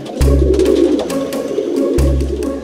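Pigeons coo loudly and close by in a comedy scene from the Tamil film Seemaraja, low throaty calls repeating over a busy background.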